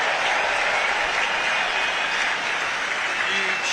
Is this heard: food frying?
no